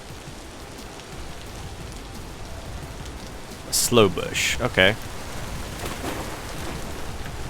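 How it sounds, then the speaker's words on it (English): Steady rain falls in the video game Vintage Story, a constant hiss that carries on throughout, with a short spoken remark heard over it near the middle. "I kind of wish the rain would stop,"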